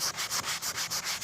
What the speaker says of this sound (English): So now I'm sanding off the white.